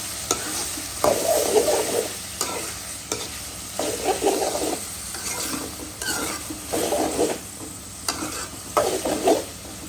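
A vegetable fries in hot oil while being stirred, a constant sizzle swelling into rhythmic scraping bursts every second or so, close by and without any voices.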